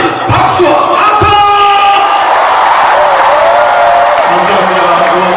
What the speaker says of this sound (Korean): 다같이 박수와 박수!